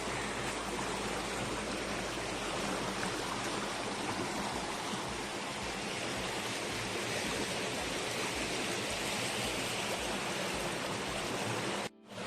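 Water pouring over a small check dam, a vented mini dam, makes a dense, steady rushing roar that holds evenly throughout and cuts off abruptly at the very end.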